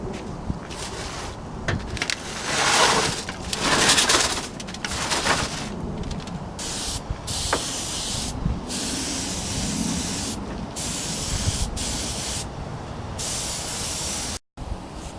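Spray gun laying a thin gold flake coat across a motorcycle wheel during a Ninja restoration, a loud steady hiss in long bursts with short pauses between passes.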